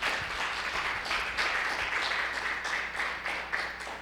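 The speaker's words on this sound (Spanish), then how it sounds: "denle un fuerte aplauso a Cristo Jesús" A church congregation claps for Jesus Christ during a Spanish-language service. Moderate, uneven applause swells and dips in waves, with a few sharper individual claps standing out.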